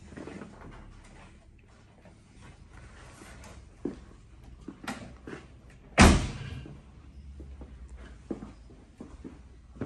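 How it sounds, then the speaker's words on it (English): A door on a Land Rover 110 five-door soft-top conversion is shut with one loud, sharp slam midway through, amid quieter knocks and handling noises. "And just carefully shut your door and make sure that nothing's catching"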